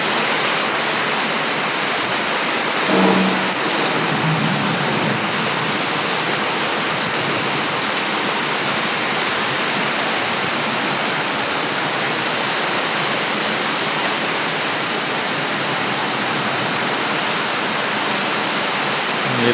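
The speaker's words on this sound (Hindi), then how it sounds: "बहुत बढ़िया रेनफॉल हुआ है" Heavy monsoon rain pours down steadily outdoors among fruit trees and shrubs, a dense unbroken roar with no pauses, loud and close throughout.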